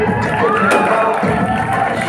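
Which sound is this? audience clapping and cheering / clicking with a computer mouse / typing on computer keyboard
audience clapping and cheering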